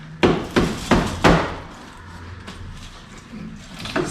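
A hammer taps on rusted metal of a 2013 GMC truck body, four sharp metallic knocks in quick succession followed by a couple of fainter taps, close up.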